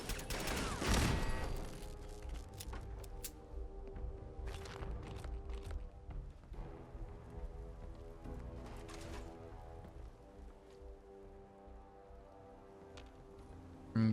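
Enemy turret firing in Fallout 4, a dense run of sharp gunfire bursts that starts loud and thins out into scattered shots over about fourteen seconds, with a final burst at the end.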